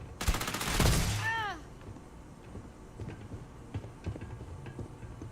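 Rapid gunfire from a Starfield firefight rattles out loud for about a second as a burst of shots, then cuts off, leaving quieter clicks and faint movement sounds.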